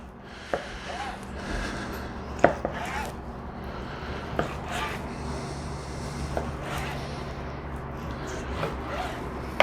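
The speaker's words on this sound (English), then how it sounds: "cut our beautiful baseball steaks" A knife slices a top sirloin butt into baseball steaks, giving soft repeated cutting and rubbing strokes with a few sharper knocks on the board, close and moderately loud, with no talking.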